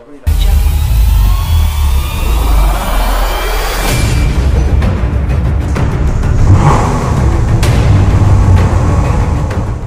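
Ferrari 458 Speciale with a naturally aspirated V8 accelerates hard, its loud engine note rising in pitch as the revs climb, then a sharp shift into a dense, rumbling roar that continues strongly at close range.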